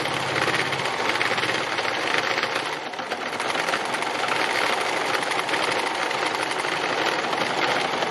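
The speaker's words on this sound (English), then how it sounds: "This is the kind of free machine embroidery that I really like." A sewing machine stitching free machine embroidery runs as a continuous, close, buzzing whir, steady and loud, with a slight dip in speed partway through.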